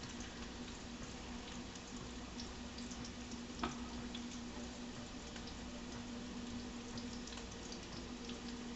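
Meatballs with Italian seasoning frying in a pan, heard as a quiet, steady hiss and bubbling with a faint hum and one small clack partway through, at low volume with no voices.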